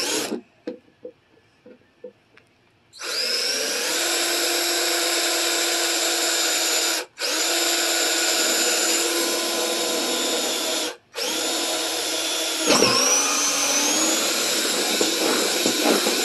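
A high-pitched power drill with a 3/8 inch bit whines loudly in three long runs separated by brief stops, preceded by a few short clicks and taps.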